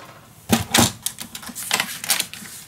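A paper trimmer slices cardstock in a few sharp, close scraping strokes, with clacks and rattles of the blade and paper in quick, uneven succession.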